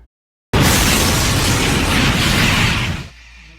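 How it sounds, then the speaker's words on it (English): Two trains colliding head-on in an 1856 wreck set off a sudden, loud, roaring explosion that hits after a brief silence, holds for about two and a half seconds, then drops to a low rumble. "The two trains slam head-on into each other, causing a huge explosion."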